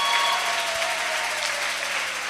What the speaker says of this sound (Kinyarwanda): Reka twongere Yesu amashyi menshi